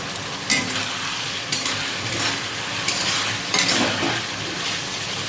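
Spice paste for a pabda fish curry is stirred and sautéed in a pan over low heat. A steady soft sizzle runs throughout, and several scraping strokes of a spoon against the pan stand out. No one speaks.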